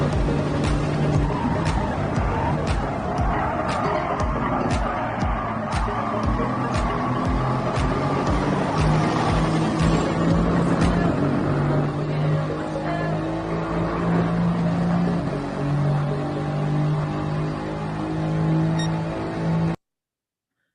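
Racing cars in the Gran Turismo video game roar loudly throughout, engines revving and droning with steady harmonic tones, tires squealing and skidding at intervals, cars passing close by, with no talk over them.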